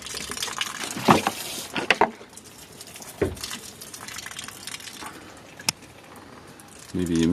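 Water is poured from a small container onto a potted orchid indoors, giving soft splashing and trickling under a voice, with a few brief clinks along the way.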